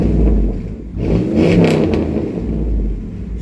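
A loud, throaty straight-piped Dodge Dakota pickup engine revs up close, swelling and dropping in a couple of deep, rumbling surges.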